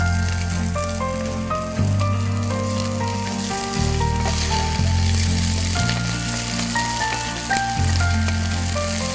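Potato pieces fry in a pan over translucent onions with a loud, steady sizzle and crackle that keeps going throughout, while quiet background music plays underneath.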